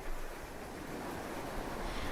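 Sea waves wash softly and steadily as sea otters float on the rocking swell, a faint, continuous surf wash without distinct breaks.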